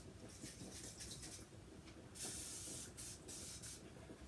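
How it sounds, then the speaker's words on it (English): A few bursts of hissing spray, the longest in the middle, over a faint steady background noise. "I'm going to spray this. A little piece of the spray."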